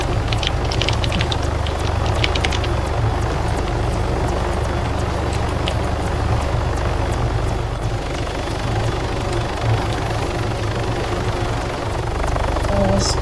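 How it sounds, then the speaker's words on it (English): A squad of rebel helicopters in a video game approaches as a steady, low rotor drone and engine rumble with faint clicking, sitting under players talking. "It's a Rebel Chopper squad coming"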